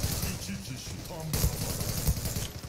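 Automatic weapon fire in the online shooter Zula, rapid bursts of shots crackling close and loud, with a player talking over the action.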